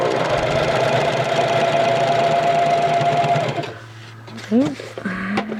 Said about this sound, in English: Remember to pull from behind and sew.